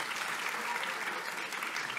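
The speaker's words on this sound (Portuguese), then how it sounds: "à equipa de audiovisuais, para quem eu peço uma salva de palmas" Sustained applause fills a university's main auditorium hall, a steady dense wash of clapping from a large audience with no pauses.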